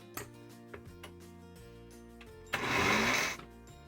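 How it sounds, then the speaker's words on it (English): A countertop blender briefly mixes wet ingredients for gluten free yeast free bread, after a few light ticks and clicks, with a loud close whir lasting about a second before cutting off. "I'm going to mix it up in the base of the blender for a little bit"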